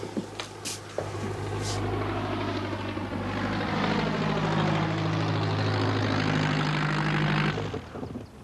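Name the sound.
aircraft landing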